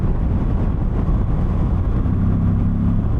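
Yamaha V85TT motorcycle riding at night, a steady low engine drone with airbox intake growl, constant and close with wind rumble, no talk.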